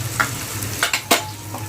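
Coriander powder, garam masala and other spices sizzle and fry in hot oil for a cabbage bhaji, with a few sharp scraping stirs of a spoon over a steady low crackle.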